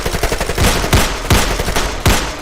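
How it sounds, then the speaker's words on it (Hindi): Gunfire rings out as a sound effect in a dramatized crime story, four sharp loud shots in quick irregular succession with no talk. "राहुल ने अपनी गन निकालकर अनूप पर गोली चलाई और वो मिस हो गई"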